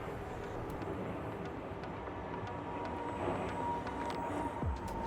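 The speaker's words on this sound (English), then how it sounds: "It's a slot prop plane, so it's going to be a little bit louder because it's a pusher" A Twisted Hobbys F-22 Raptor RC foam jet with a pusher prop flies overhead, its electric motor a steady, fairly loud drone that holds throughout with slight swells, with no voices.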